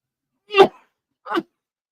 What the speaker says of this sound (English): Out comes a sneeze.